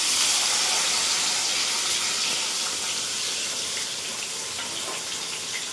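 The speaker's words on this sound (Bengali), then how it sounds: "আমি এই কেটে রাখা পনিরটা তেলের ভেতরে দিয়ে দেবো" Cubes of cut paneer fry in hot oil, producing a dense, continuous sizzling hiss that stays loud and even from start to finish.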